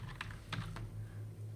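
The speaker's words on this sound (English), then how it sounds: "if you type Shift 7 on a Windows keyboard, a slash, then you can search for something." Quick bursts of keystrokes clatter on a Windows computer keyboard, a handful of close, crisp clicks over a low steady hum.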